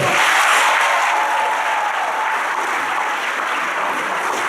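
Steady, dense applause from a crowd at an awards ceremony, a continuous even wash of clapping throughout with no talk.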